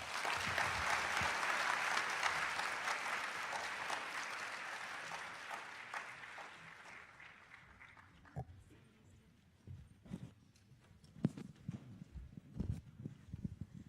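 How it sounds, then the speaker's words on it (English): Audience applause for students at a school summer program closing ceremony, a full round of clapping that fades out by about eight seconds, followed by scattered knocks and footsteps in a quieter room. "Let's give these students a big round of applause."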